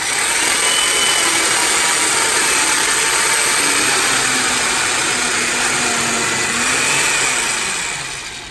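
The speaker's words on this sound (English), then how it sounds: "I'm going to put the clamp down. Now there's no need to do in and out. We already have it there. I'm going to make this one chop" A Makita mortising machine chopping a mortise in timber: a steady, loud motor whine holds throughout the cut, with a faint shifting tone partway through and the sound fading at the end.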